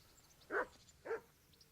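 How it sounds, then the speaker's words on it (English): Two barks from Mart, a butcher's dog in the medieval game Kingdom Come: Deliverance, sound close by, spaced about half a second apart, each sharp and short over a quiet background. "What's that dog you have here?"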